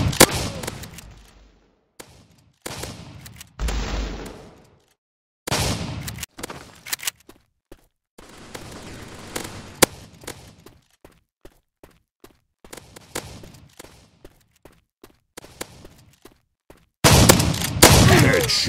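Bursts of automatic gunfire from an auto gun in a mobile shooter game, loud rapid volleys separated by quieter stretches of scattered clicks, shots and footsteps, with a heavy sustained burst at the end.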